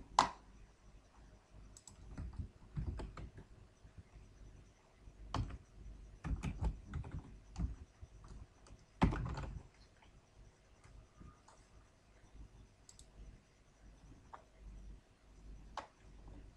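Keys clatter on a computer keyboard as a search term is typed, in scattered bursts of quick clicks separated by quiet pauses, faint and close, with no talking.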